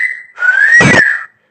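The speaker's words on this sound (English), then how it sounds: "that's called a wolf whistle." A single loud, close wolf whistle: a bright tone glides upward, then sweeps down again, with a breathy burst in the middle and no talking.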